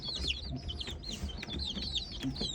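Many small chicks cheep continuously in high, rapid chirps at a Çimuka CT60 SH incubator, a busy overlapping chorus heard up close with no talking.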